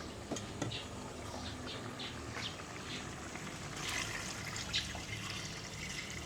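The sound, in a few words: water poured into cooking pot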